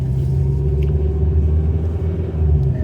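A 19-year-old Ford Focus 1.6 automatic pulling away, its engine a steady, close low rumble with a slight swell in revs, heard alone with no talking.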